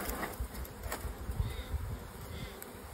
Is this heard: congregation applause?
no